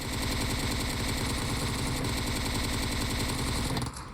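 Rapid automatic gunfire from the mobile game PUBG Mobile, a dense, continuous rattle of shots at steady loud volume that carries for nearly the whole stretch before dropping off at the end.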